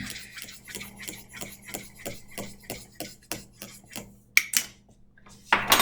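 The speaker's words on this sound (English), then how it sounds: "just take your spoon, you stir it" A metal spoon stirs coffee with milk in a cup, giving a quick run of regular rhythmic scrapes and clinks against the sides, close and clear, and ending in a few sharper taps on the rim.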